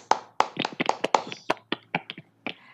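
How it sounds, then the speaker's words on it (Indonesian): A small classroom of students claps briefly for a group's presentation, a sparse scatter of distinct, uneven hand claps close by that thins out toward the end. "Kita beri tepuk tangan dulu terlebih dahulu."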